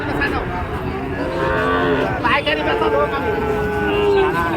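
Cattle moo loudly and repeatedly amid a noisy wholesale cattle market crowd, with people talking throughout.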